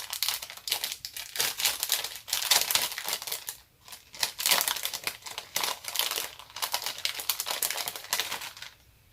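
Brown wrapping paper being handled and crinkled, a steady run of dense, close crackling rustles with a brief lull partway through, no voices over it.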